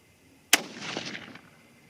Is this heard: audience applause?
no